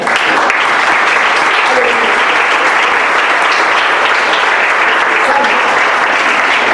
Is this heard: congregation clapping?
yes